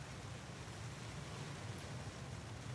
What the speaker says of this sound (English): See, the waterfall's super loud again.